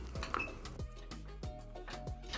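Chocolate and vegan butter melt in a pot as a spoon stirs, giving quiet, rhythmic clinks and scrapes against the metal, with no talking.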